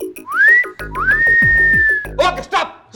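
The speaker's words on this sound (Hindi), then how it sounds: "आप ये सीटी बजाइए, हम रिकॉर्ड कर लेंगे" A person whistles loudly up close, producing two rising notes that are each held steady. A quick burst of short chirpy whistles follows near the end.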